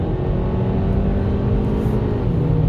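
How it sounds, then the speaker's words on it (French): A 2018 Hyundai i30 N-Line engine revs steadily and loudly, a continuous close-up drone that holds a high pitch throughout with no talking. "Et ça monte dans les tours, hein, 6000 tours, on est tranquille"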